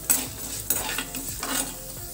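Seeds being dry-roasted and stirred in a pan, with a steady scraping stir, light sizzle and occasional louder strokes of the spoon against the metal, close and continuous without voices.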